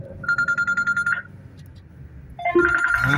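A phone ringtone plays as a fast string of bright, pulsing electronic tones, stops briefly, then starts ringing again with a denser melody.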